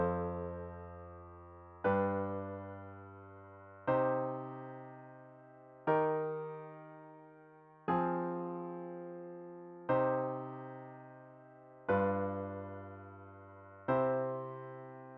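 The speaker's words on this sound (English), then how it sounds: "Here is the sound of this progression with borrowed chords." Eight sustained piano-like chords play one after another at an even pace, each struck cleanly every two seconds and left to decay, forming a major-key progression with borrowed minor chords.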